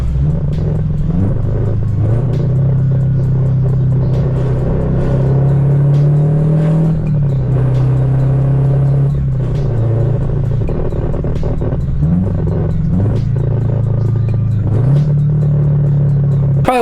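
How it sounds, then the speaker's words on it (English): A modified Subaru BRZ / Toyota 86 / Scion FR-S on a test drive, its engine droning steadily from inside the cabin and rising in pitch through repeated gear pulls and shifts, with road rumble underneath. "we're gonna go ahead and give it out a test drive and see how it feels"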